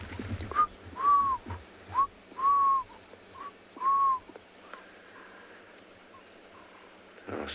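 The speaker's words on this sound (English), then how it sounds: "Hear the Cape turtle doves or the ring-necked doves." Cape turtle doves or ring-necked doves call in a quiet South African bush setting, a series of soft repeated coos in a rhythmic phrase, moderately distant over faint ambient background.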